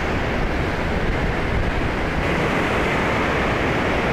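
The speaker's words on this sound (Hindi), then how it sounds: "पानी यहाँ जो है उफान मारता है" The swollen Parvati river in the Himalaya rushes past in a loud, steady roar of churning water, a dense unbroken wash of noise with no pauses.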